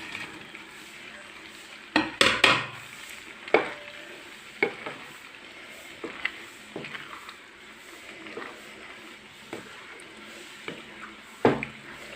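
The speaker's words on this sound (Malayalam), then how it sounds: "ഞാൻ ഈ വറുത്ത് വെച്ചേക്കുന്ന കോളിഫ്ലവർ ഈ ഗ്രേവിയിലേക്ക് ഇട്ട് കൊടുക്കാം." Fried cauliflower pieces are stirred into simmering gravy to make chilli gobi, with a few sharp clattering scrapes and clinks early on and sporadic softer stirring knocks over a low bubbling sizzle, close and without talk.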